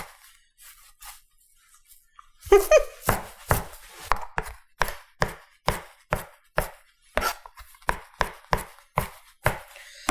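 Titan Forge chef's knife rocking through woody herb stems on a cutting board, a steady run of crisp, evenly spaced chops close up after a quiet start.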